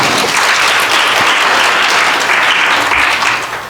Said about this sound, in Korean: 우리 하나님께 박수 한번 드리고 시작합시다